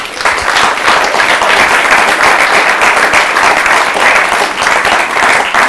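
Audience applause for a panel at a filmed debate on class, race and classical music, a loud, sustained round of clapping from a full hall that holds steady throughout.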